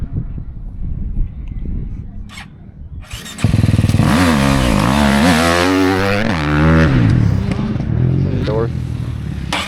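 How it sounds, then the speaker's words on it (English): A dirt bike is kicked over from a dead-engine start for a hare scramble, catches after a moment, then revs loudly and close in rising and falling bursts, with people talking around it. "Try a hair scramble, dead engine start."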